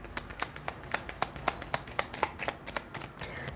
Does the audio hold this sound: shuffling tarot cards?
yes